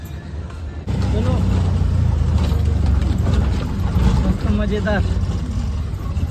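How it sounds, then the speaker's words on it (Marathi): An auto rickshaw's engine runs steadily through the ride with a constant close rumbling drone, and someone talks over it. "रिक्षा घेऊन चाललो"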